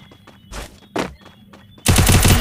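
Gunfire in the shooter game Lone Wolf: two sharp shots ring out a half second apart, followed by a louder rapid burst of automatic fire at the end.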